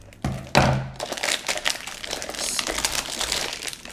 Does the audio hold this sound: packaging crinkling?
yes